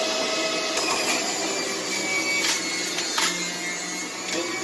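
A juicer grinding celery for a green drink, a loud, steady whirring motor drone with brief crunchy spikes as stalks are fed through, close and continuous.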